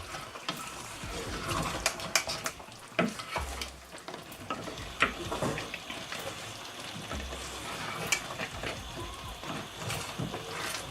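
Okra soup with fish stirred in a pot, a continuous close scraping and clattering of a spoon with soft bubbling and sizzle underneath, no one speaking.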